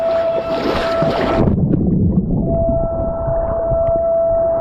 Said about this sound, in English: The alarm sounds again.